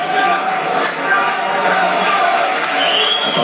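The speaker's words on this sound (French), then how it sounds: "Et le public qui applaudit" Boxing crowd at a WBF super welterweight world title fight, a steady dense wash of applause and crowd noise filling the arena, with voices blended into the din.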